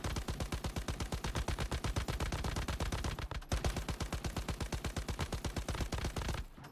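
Sustained automatic gunfire in the video game Once Human, a loud, rapid, steady stream of shots that runs almost without a break, with one brief gap partway through and no voices.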